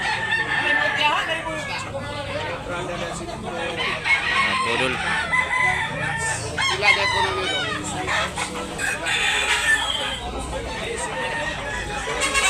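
Roosters crow repeatedly and chickens cluck throughout a busy chicken market in Tabunok, Talisay, Cebu, with crowd chatter and people talking over the birds.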